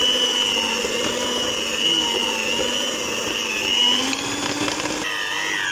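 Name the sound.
electric mixer mixing whipping cream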